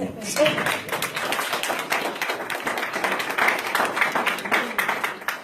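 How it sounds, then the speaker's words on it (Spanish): Congregation applauding at a church service on believer's baptism, a dense steady patter of many hands clapping for several seconds with voices mixed in. "Denle un aplauso a Dios, pues"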